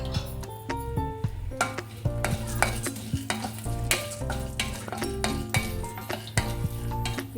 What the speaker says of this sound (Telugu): ఇవి కొద్దిగా ఫ్రై కావాలండి